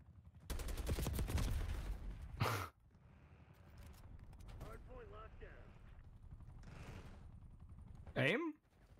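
Rapid bursts of automatic gunfire open a Call of Duty match on PS5, followed by quieter scattered shots and game effects, with a voice shouting over the action near the end.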